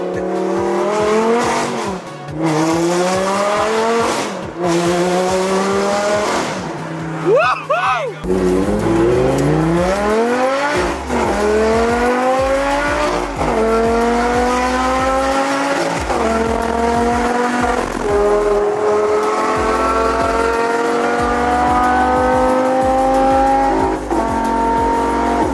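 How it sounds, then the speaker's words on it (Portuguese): A Lamborghini engine revs and accelerates hard in rising sweeps, loud and close, with a screeching tire squeal partway through. "do salafrário do Renato pegando a minha Lamborghini sem minha permissão e acelerando tudo"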